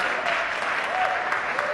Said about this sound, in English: Give him a round of applause for receiving an award on Outstanding Excellence